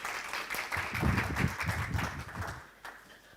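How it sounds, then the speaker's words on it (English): An audience at a talk on mental toughness gives a round of applause, a moderate, steady patter of clapping lasting a few seconds. "Bit of a round of applause again for Katrina."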